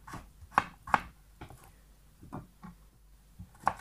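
A knife chops garlic cloves on a cutting board in several sharp, close, irregular knocks with short gaps between them, crisp and fairly loud against a quiet background.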